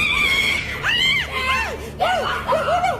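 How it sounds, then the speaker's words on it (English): A woman lets out a string of loud, shrill, rising and falling shrieks of terror in quick bursts, close and piercing, with brief gaps between cries. "The woman immediately screams in terror, completely shocked by what she just saw."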